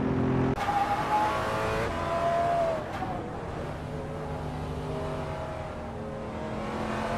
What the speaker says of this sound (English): Rome Spider is driving a 2015 Ford Mustang G